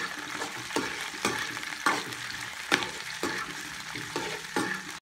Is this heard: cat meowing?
no